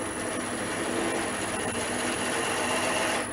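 A wood-turning lathe tool scrapes and cuts across spinning wood, arcing out from the centre, giving a steady, close, continuous rasping hiss with no talk.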